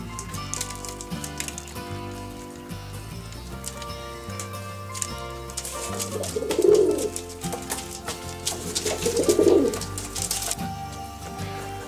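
Pigeons cooing softly while eating feed, with low rounded coos rising twice over a steady bed of background music, close by and moderately loud.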